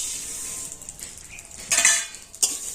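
Moong dal tips into hot ghee in a pan with a soft hiss, then a couple of bright metallic clinks of a spoon against the pan ring out near and fairly quiet.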